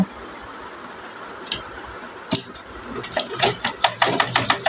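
A sewing machine stitches a folded half-inch border around the hem of a two-year-old child's palazzo trousers, starting quietly and building into a rapid, steady run of close mechanical needle strikes.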